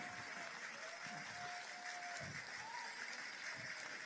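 Audience applause following a stage performance at a live cultural festival, a continuous even patter of many hands heard from a distance with a faint tonal hum running through.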